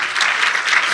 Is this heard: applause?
yes